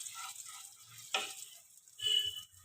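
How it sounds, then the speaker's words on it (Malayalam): Fenugreek and cumin seeds frying in oil give a faint, patchy crackle with a couple of brief sharp spits and a louder burst of sizzling near the end, close by and otherwise fairly quiet. "ഉലുവായും ജീരകവും കൂടെ മൂക്കാൻ വെച്ച്"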